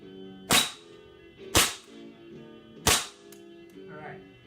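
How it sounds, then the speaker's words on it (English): Three sharp, loud shots from a full-stock SRC MP5 airsoft gun fired in semi-auto, spaced about a second apart, each with a quick snap and short decay, followed by faint handling noise. "I'm shooting now with this one, the full stock SRC MP5 now from the same distance"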